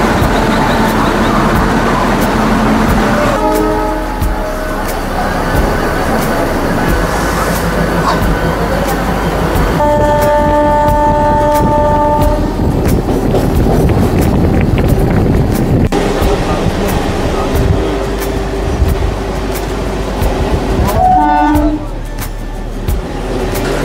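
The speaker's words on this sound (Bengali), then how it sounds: "আমাদের ট্রেন তার রাইট টাইমে হাওড়া স্টেশনের 13 নম্বর প্ল্যাটফর্ম থেকে ছেড়ে দিল" Local train pulling out of platform 13 at Howrah station and running on the rails, a loud continuous rumble with rattling and some tonal whines, plus wind buffeting the microphone.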